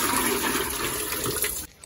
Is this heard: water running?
yes